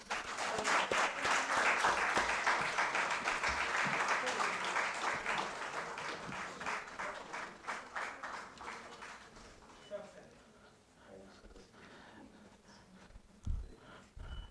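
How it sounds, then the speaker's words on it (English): An academic lecture audience gives a felicitation round of applause, dense clapping that holds strong and then tapers into scattered claps, with voices talking faintly as it dies down. "Good round of applause"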